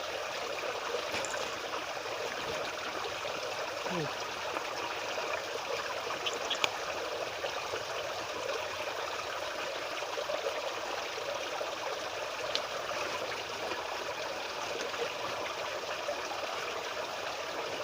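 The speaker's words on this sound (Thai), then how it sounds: "เพราะน้ำไหลเข้าไปแล้ว" A steady, gentle rush of water flowing through a rice field channel, continuous and even throughout, with occasional faint splashes.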